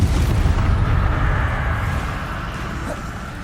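A Confringo spell explosion in Hogwarts Legacy, a loud, deep boom that fades into a rumbling, decaying roar over a few seconds.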